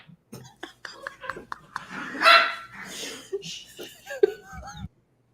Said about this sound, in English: The dog thought it was funny too.